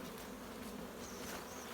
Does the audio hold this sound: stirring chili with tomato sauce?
no